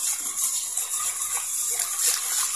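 Water poured into a flour mixture in a pot while making palabok sauce, a continuous close splashing, gushing stream with no talk.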